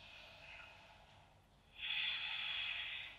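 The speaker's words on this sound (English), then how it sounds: "Breathing with sound." Audible ujjayi-style breathing during a led Ashtanga yoga practice: a soft, steady breath that fades briefly, then swells into a louder, hissing breath lasting over a second, close and alone with no talk.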